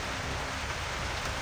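Steady rain falls outdoors as a faint, continuous hiss of drops on surfaces, with no voices over it.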